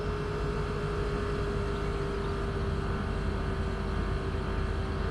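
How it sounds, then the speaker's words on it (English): A steady mechanical hum with a constant tonal whine drones evenly throughout from a car's air conditioning compressor running nearby, with no changes or pauses. "Air condition compressor turning on."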